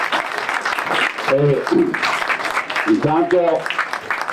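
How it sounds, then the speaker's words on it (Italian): Audience applause at a press conference presenting a mayoral candidate in Vittorio Veneto, a steady crowd clapping throughout while someone speaks over it. "Fatevi un applauso perché siete tantissimi"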